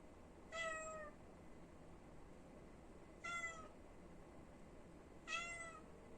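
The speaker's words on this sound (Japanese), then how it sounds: "退場を食らった黒猫が抗議活動をしています。" Three drawn-out meows from a black cat, evenly spaced and fairly faint, against a quiet background hiss.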